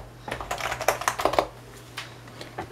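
Fast, uneven keystrokes clatter on a gaming keyboard set up with a matching mouse and mousepad. The bursts of clicks are close and fairly loud over a low steady hum, then thin out to a few scattered taps, with no talking.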